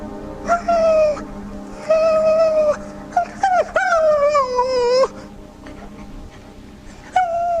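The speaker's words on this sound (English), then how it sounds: "Here, dog. Here. That's it, dog." In a live radio drama staged in 1984, a dog whimpers and whines in several drawn-out, wavering high cries separated by short pauses. The dog is close and loud, and no speech is heard.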